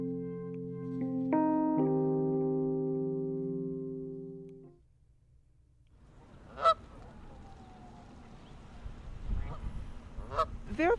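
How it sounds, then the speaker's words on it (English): Ducks and geese in Central Park in winter give a few sharp, nasal honks and calls over faint outdoor rumble, preceded by several seconds of a sustained tonal music-like sound that fades out. "There are quite a few different species of ducks that come every year during winter time and spend the winter here."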